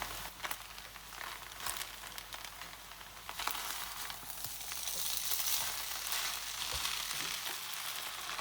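Beaten egg and spring onions sizzle in a hot pan of fried rice made from leftovers, a steady, close crackling fry with light crinkly stirring and no talk.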